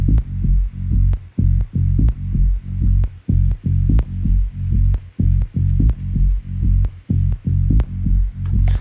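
A deep analog synth bass note on F pulses in short, repeated throbs with a steady rhythm, loud and up close with no other sounds.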